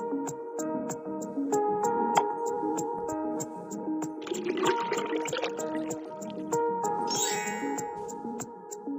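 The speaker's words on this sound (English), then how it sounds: "Pour some food color into the vinegar." Food coloring poured into a bowl of vinegar, a short burst of liquid splashing midway through, partly masked by steady background music with chiming tones.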